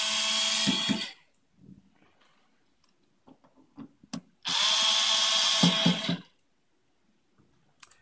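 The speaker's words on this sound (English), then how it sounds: "we'll just remove those two screws at the back, two screws in the middle" A power driver removes screws from a RADAR studio Bay of Gigs dual receiver unit in two loud, close whirring bursts, separated by a pause filled with small ticks and clicks of handling.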